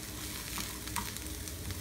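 Butter melting in a pan with onion gives a soft, steady frying hiss, faint and continuous, with small crackles rising now and then.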